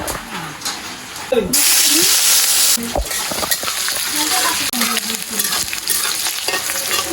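Onion, ginger and bay leaves sizzle and crackle in hot oil for a village-style duck curry, with a steady frying hiss, a louder burst as ingredients hit the pan, and people talking over it.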